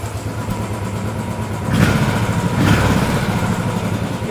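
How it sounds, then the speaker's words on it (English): Royal Enfield Bullet 500 EFI engine idling close by with a steady, even tick over, briefly swelling in a couple of light blips before settling back to its constant idle rhythm, no talk. "The rest of the engine, the clunking noise is gone. And it's constant tick over."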